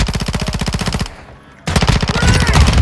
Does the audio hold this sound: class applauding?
no